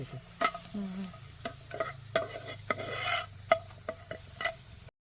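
Onions sizzle in a hot pan with oil for a Bombay duck curry, while a utensil stirs and scrapes in repeated short clinks and bursts over a steady low frying hiss, close and moderately quiet.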